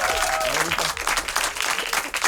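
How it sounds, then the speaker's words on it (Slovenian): A studio audience applauds at the close of a live concert for Radio Robin's 30th anniversary, giving steady, dense clapping that is close and full and fades slightly toward the end. "Mislim, da jih lahko res nagradimo z enim velikim aplavzom."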